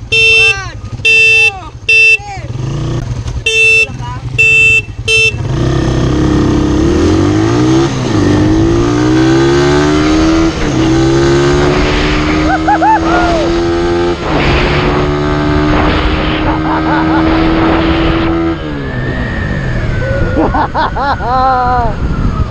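A Suzuki Raider 150 and a stock Rusi Macho 125 motorcycle drag racing: loud engines rev in short bursts, then roar away hard through rising gear changes, close and sustained, with people shouting over the noise.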